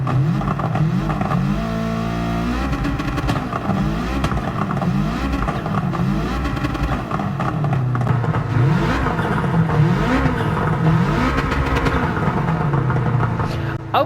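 A Subaru engine in Gran Turismo 7 revs steadily with an anti-lag system, a continuous loud droning roar with shifting pitch over fourteen seconds and no clear talk.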